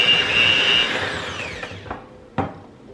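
A handheld electric mixer beats eggs into cake batter with a steady whirring drone that fades out, followed by a few brief knocks and taps.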